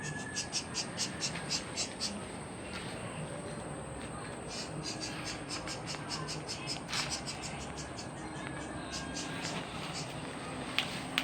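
Frogs croak in quick rhythmic bursts against a dense bed of night insects, faint and steady throughout, with a few louder clicks.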